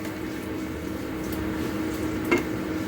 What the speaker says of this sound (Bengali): কারি পাতাটা ফোড়ন দিয়ে দিলাম